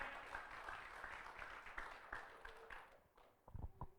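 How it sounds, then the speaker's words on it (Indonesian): Church congregation applauding during an Indonesian worship service, a steady patter of clapping lasting about three seconds before it thins into a few louder, scattered claps. "Berikan tepuk tangan bagi Tuhan kita."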